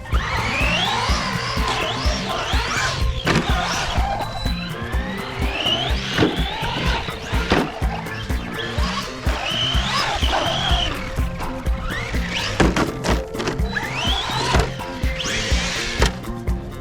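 An Arrma Senton 3S RC car races and lands jumps outdoors, its electric motor whining loudly in repeated rising and falling sweeps, broken by sharp thuds and clatters from the landings throughout.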